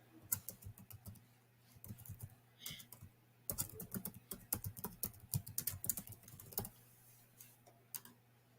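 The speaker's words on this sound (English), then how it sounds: "You'll want to now type in your business name" A business name is typed on a computer keyboard in quick irregular bursts of close, crisp key taps, with short pauses between runs and a quiet background hum.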